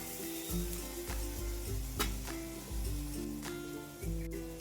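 Green chilies and garlic sizzle in hot oil in a pan, a steady close crackle broken by recurring soft thumps, likely stirring, with no talk over it.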